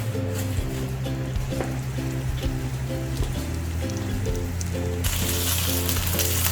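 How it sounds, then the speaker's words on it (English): Chicken breast browning in a hot pan, a steady crackling sizzle heard close up under a continuous background music bed, with a brighter hiss surging near the end. "You start to hear a little sizzle. Sizzle, sizzle, sizzle."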